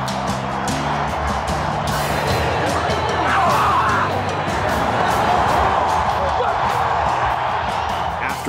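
A roaring stadium crowd at a Cleveland Browns football game cheers and yells continuously, loud and dense throughout, with scattered whoops and a sharp bang near the start.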